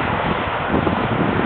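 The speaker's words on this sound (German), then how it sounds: "Hier oben ist es natürlich sehr windig, deswegen pfeift es mir auch ganz schön um die Ohren." Strong wind buffeting across a rocky hilltop lookout above the Rhine near Lahnstein, a dense continuous rushing roar battering the microphone, loud and close with no voices.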